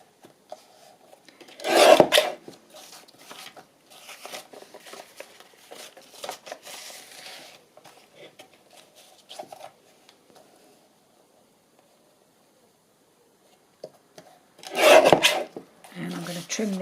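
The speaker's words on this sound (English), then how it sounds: "So I'm just going to trim it a bit top and bottom." Paper edges of a handmade journal being trimmed and filed, giving two loud rasping bursts near the start and end with quieter scratchy rubbing and faint ticks between, close by.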